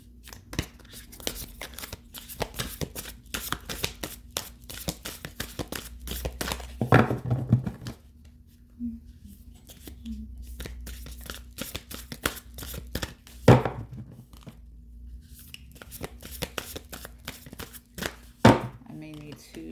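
A new deck of cards being shuffled at a table, with repeated riffling and snapping bursts in uneven runs and a few louder slaps, close up, with scattered quiet handling noises between the bursts.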